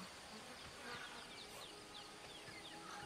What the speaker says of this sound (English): I actually hear the beehive.